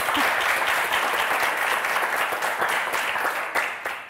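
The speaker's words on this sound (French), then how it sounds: "Florence, Christine, d'abord, on vous applaudit très fort." A studio audience on a French TV game show applauds two contestants, a steady, full wash of clapping that holds evenly throughout.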